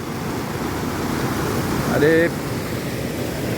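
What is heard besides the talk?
waterfall at Le Saut du Brame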